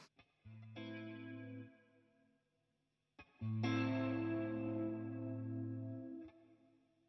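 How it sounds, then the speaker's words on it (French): Electric guitar chords with a swirling, sweeping flanger effect and reverb wash, two sustained strums separated by a short pause. "on y met un coup de flange vénère"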